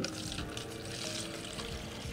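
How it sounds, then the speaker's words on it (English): Mineral spirits are poured into a jug for cleaning trailer wheel bearings, giving a continuous splashing, gurgling pour, close and steady throughout. "So we're gonna take some mineral spirits and pour them"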